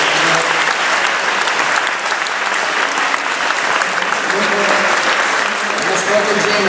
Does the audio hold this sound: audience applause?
yes